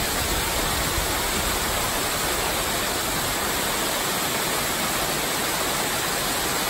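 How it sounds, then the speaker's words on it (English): Amicalola Falls, a waterfall in North Georgia heard from its base, gives a steady, dense rushing hiss that fills the whole clip without pause. "Man, gorgeous waterfall."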